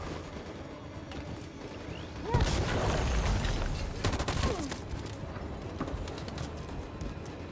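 A grenade goes off in the game Detroit: Become Human. A heavy boom erupts partway through over a noisy scene, followed by scattered bursts and crackling debris.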